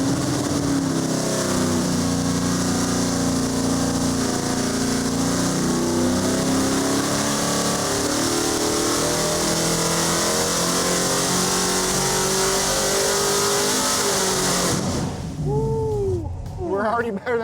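A 496 stroker big block Chevy V8 on pump gas revs hard and sustains a loud, rising roar at high RPM on an engine dyno, then drops off sharply near the end.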